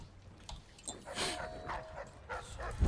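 A dog in the video game Dishonored lets out a few short whimpers and yips, faint and scattered, mixed with game sounds and no talking.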